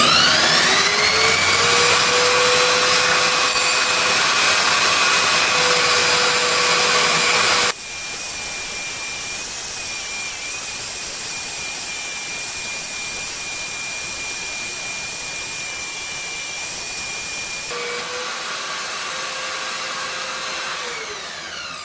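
Vevor tube polisher running with a DIY vise attachment, buffing a hex head bolt: a loud steady high motor whine and grinding hiss throughout, with the pitch and load shifting as the bolt is worked, no talking.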